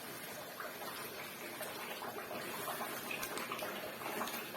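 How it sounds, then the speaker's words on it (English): Water pours steadily into a cooking pot for local jollof rice, a continuous rushing, splashy stream that holds for several seconds at moderate level with no talking. "Now we'll add water to it."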